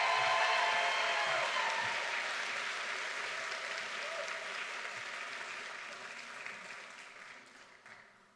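An audience at a medical school white coat ceremony applauds for the graduating student doctors, a dense wash of clapping that starts strong and gradually fades over several seconds.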